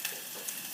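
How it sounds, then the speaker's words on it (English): Chopped ginger and finely diced red onion hit a very hot pan with a brief, close, continuous sizzle and a couple of light stirring ticks. "So we're going to get that cooking"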